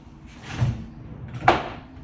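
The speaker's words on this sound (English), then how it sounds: "close the door." A door in a small tiny house swings shut, with a soft bump near the middle and a sharper knock or latch click about a second later, close by in a quiet room.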